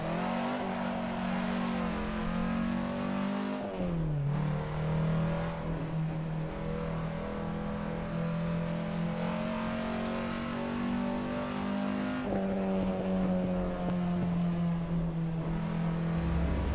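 An Opel Kadett rally car on the Targa Florio roads holds a steady, loud engine drone with one brief dip as the driver shifts. Revs climb again under load, heard from inside the car with no voices.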